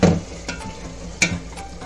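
Cooked tomato masala stirred in a pan with a spoon, giving a soft close scrape and light sizzle with a couple of sharper clinks against the metal, no talking.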